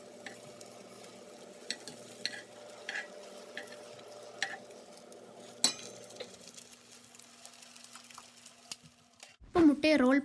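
An egg fries in oil in a pan for an egg and cheese roll, giving a low steady sizzle with soft scraping as it is gently rolled over, ending in a few louder clattering knocks near the close.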